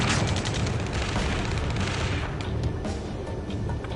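Heavy gunfire in the Ace Combat 7 video game, a dense stream of rapid shots and booming blasts running continuously, loud and close, tapering slightly toward the end with no talk.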